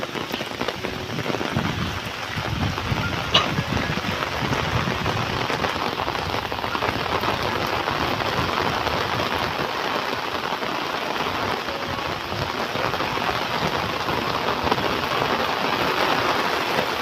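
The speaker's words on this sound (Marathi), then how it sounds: "पाऊस पण जोरात आहे" Heavy monsoon rain in Konkan drums steadily on surfaces nearby, a dense continuous patter that stays loud and unbroken from start to finish.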